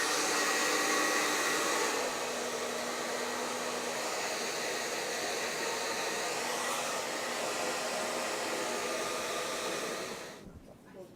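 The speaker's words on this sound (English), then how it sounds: "So just for a few seconds, I'm going to use the dryer." A handheld hair dryer blows steadily on hair during a keratin straightening treatment, a loud continuous whoosh with a slight pitch shift partway, running about ten seconds before cutting off.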